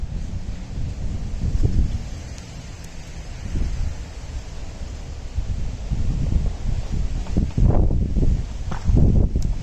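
Gusty wind buffets the microphone in rumbling bursts that rise and fall, with faint rustling in between.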